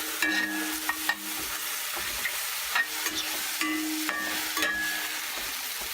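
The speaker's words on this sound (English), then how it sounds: "And it's sizzling away there." Butter and turmeric sizzle steadily in a frying pan, with a dense, continuous frying hiss broken by a few brief stirring scrapes and clinks, close and fairly quiet.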